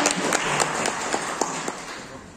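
Audience at a labour dialogue event applauding to welcome a speaker, a moderate round of scattered clapping that starts fuller and gradually fades over a couple of seconds.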